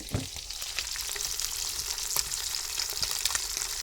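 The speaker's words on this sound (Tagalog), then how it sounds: "Nagprito tayo ng isda" Fish fries in hot oil in a pan, a dense, continuous crackling sizzle with scattered pops, close and fairly quiet, with no talking.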